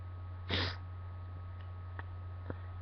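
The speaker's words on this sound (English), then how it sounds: "I think that was 3 sneezes in a row." A burst of sneezing, one of three sneezes in a row, erupts as a single loud broadband blast near the start, followed by a couple of faint short sniffs over a steady low electrical hum.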